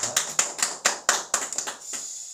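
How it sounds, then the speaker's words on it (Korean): Rhythmic hand clapping rings out in a church at Easter worship, about ten sharp, evenly spaced claps that loosen and fade toward the end, close and fairly loud with no talking. "하나님께 영광의 박수 올리겠습니다."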